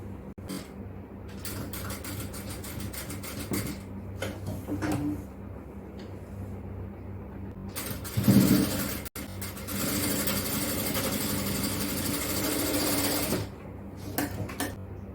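An electric sewing machine runs in intermittent bursts while stitching an XXL yoke nighty, with a longer steady run in the middle and small ticks and handling clatter between, fairly close and without talk.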